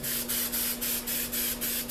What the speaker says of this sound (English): What I'm doing now is I'm spraying black